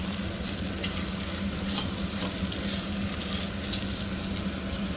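Coriander powder being stirred into jackfruit pulao masala frying in a pan, a steady close sizzle with light scraping of the spoon running throughout, no voices.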